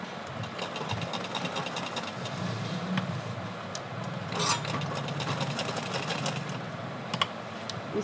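Sewing machine stitching elastic onto the waistband of simple pants, a close, steady rapid clatter of the needle running continuously with small bursts of louder ticking.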